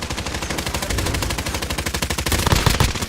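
Kilo-141 assault rifle gunfire in Call of Duty Warzone, loud rapid automatic fire in dense sustained bursts with a steady rhythmic rattle, swelling slightly near the end.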